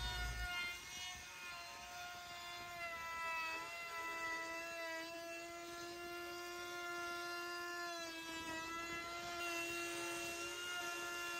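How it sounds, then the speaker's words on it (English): A router rounds and smooths the edges of a cut wood circle, a steady high whine with strong tonal overtones running without a break, fairly close and even in level. "To smooth and round out the edges of the circle I cut out, I used my router"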